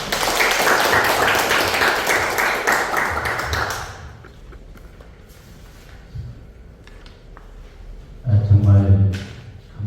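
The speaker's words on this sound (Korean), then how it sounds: "박수로 모시겠습니다" Dense audience applause welcomes a speaker at a youth writers' literary concert in Daejeon, with roughly four seconds of loud, steady clapping that fades to a quiet room before a voice speaks near the end.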